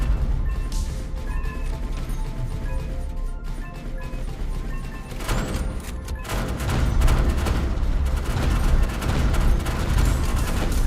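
Weapons fire continuously in the space survival-arena game Starforged Legacy, dense loud bursts and crashing impacts that grow heavier partway through, with no talking.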